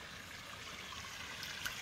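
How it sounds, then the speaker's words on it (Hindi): Water rushes steadily over stones at Gandahati waterfall, a close, continuous broadband wash with no pauses and no voices. "ये है पत्थर, पानी इधर से आ रही है"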